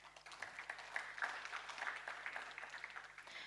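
An audience applauding at a formal ocean conference event, a dense patter of many hands clapping at moderate distance for several seconds without speech.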